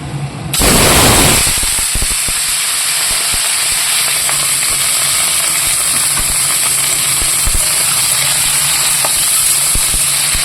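Shrimp hit hot oil in a pan and set off a sudden loud sizzle that stays strong and steady to the end, very close and with no talking.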